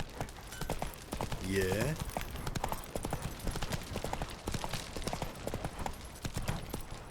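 Hoofbeats of the horse Roach galloping in a video game, a steady clip-clop rhythm running throughout with game sounds and someone talking over it.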